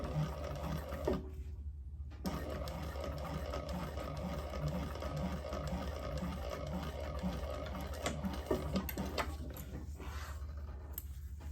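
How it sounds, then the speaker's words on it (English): Sewing machine top stitching a sturdy vinyl sling piece, a steady close mechanical whir with rapid rhythmic needle clatter running almost continuously, pausing briefly near the start. "we're going to top stitch"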